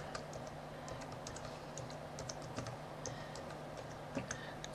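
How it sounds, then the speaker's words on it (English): A password is typed on a computer keyboard as a quick run of close, light key clicks over a steady low hum, with no talking. "you need to type the password"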